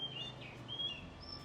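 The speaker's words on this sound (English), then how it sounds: "there's about 1 billion like regular birds flying around here" Many birds call around the huge ancient chedi of Wat Yannasen in Ayutthaya, Thailand, with high, thin chirps and tweets repeating at a moderate distance over a soft outdoor background.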